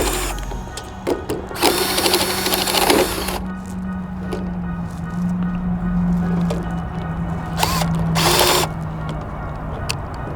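A power drill fitted with a 3/8 bit bores into an animal skull being cleaned for a European mount, running in several short whirring bursts with pauses, a low motor hum continuing between them.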